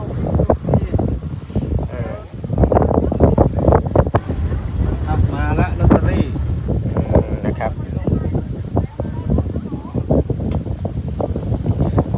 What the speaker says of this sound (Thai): ลมแรงมากนะครับวันนี้นะครับ